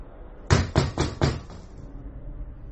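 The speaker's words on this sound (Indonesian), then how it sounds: "aku mendengar pintu kamarku diketuk dengan kuat" Four loud, sharp knocks on a bedroom door in quick, even succession, then quiet.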